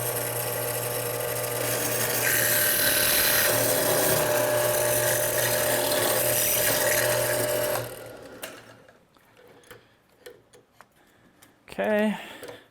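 Aluminum being drilled gives a loud, steady machining whine with a rough grinding edge for about eight seconds, then cuts off, leaving sparse clicks and handling noises before a short burst of nearby speech at the end.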